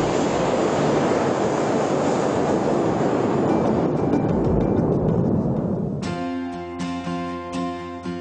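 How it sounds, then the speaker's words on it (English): An aircraft jet engine blasts hot gas from its rear nozzle. A loud, steady, broadband roar holds for about six seconds, then gives way to fainter tonal accompaniment. "This jet of hot gas propels the plane forward."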